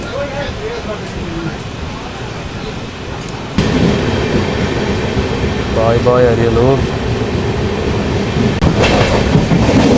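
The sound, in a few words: Pallavan Express train running, Karaikkudi to Chennai Egmore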